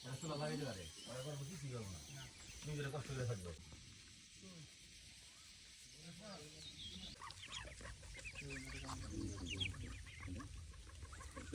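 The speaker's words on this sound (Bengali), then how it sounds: "হাঁস।" Farm ducks in a Bengali hillside garden estate, fowl calls mixed in with near, continuous talking voices against a steady outdoor background.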